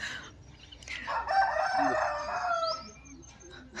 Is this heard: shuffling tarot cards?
no